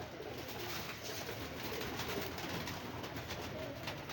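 Pigeons coo softly amid a steady wash of background noise, a flock nearby with low, rounded calls blending into a constant hiss without clear breaks.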